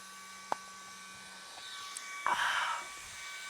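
An electric fan at a hot roadside stop by the Nakdong River on a cross-country bike route gives a short, close whoosh of blowing air with a faint motor hum, preceded by a small click.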